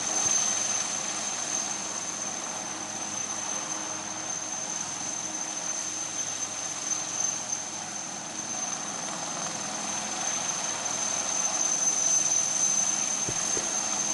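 A naval ALH helicopter hovers nearby over the water, its steady rotor wash and engine whine forming a constant, even roar with a high turbine tone throughout.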